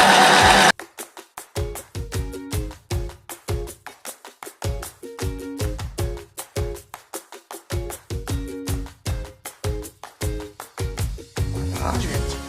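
Sewing machine stitching all around a small scented fabric cushion, a close mechanical whir running in repeated short bursts with brief stops between them.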